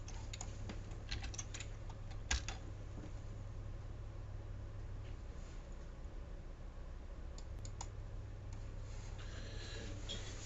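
Computer keyboard typing a website address into a web browser, faint scattered key clicks in short bursts over a quiet room hum.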